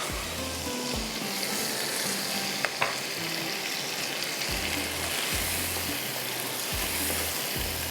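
Capsicum, green onion and green chili stir-frying in a hot pan, a continuous loud sizzle with repeated low scraping strokes of a spatula and a couple of sharp clicks.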